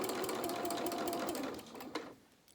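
Sewing machine running steadily along the edge of a pair of dungarees, a fast continuous whir with a couple of short reverse stitches, then slowing and tapering off near the end.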